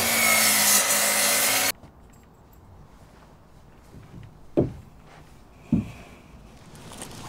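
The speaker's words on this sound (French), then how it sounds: "Scie ensuite un nouveau poteau avec les angles que tu viens de mesurer." A saw cutting a new wooden post, a loud rasping stroke of wood sawing that stops abruptly, followed by quieter room noise with two brief knocks.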